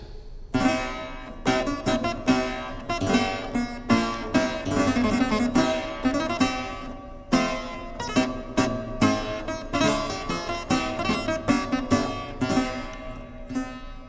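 A clavichord plays a lively passage of quick, bright notes with a thin, delicate metallic tone, steady and unaccompanied.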